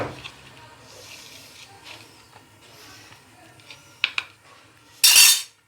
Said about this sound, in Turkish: İçine boşaltıp yavaş yavaş karıştırarak güzel bir renk alıyor.